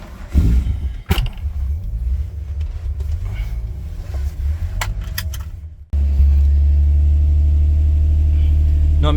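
Engine of a Calais car on a cold start, running at a steady rumbling idle, then revved up into a louder, sustained drone that holds to the end, close and dominant.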